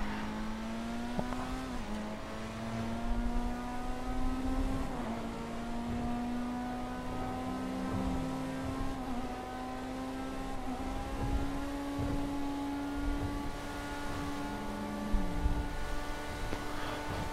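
Pfister 811 supercar engine driving in GTA V, a steady high-pitched revving drone with rising and falling gear pulls, loud and continuous throughout with no talk.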